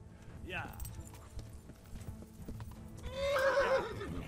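Horse in the video game Kingdom Come: Deliverance, with hoofbeats clopping through the clip and a loud, close whinny rising near the end; a voice talks intermittently.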